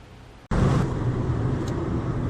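A car drives along the Pacific Coast Highway in Northern California, and after a brief dip the steady road roar and engine rumble fill the cabin, loud and even, with no voices.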